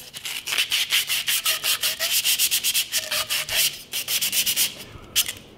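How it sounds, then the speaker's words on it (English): Sandpaper rubbed by hand over the end of a carbon blade during a composite patch repair, a close, steady series of quick rasping back-and-forth strokes with brief pauses, no talk. "We're gonna sand the other end as well."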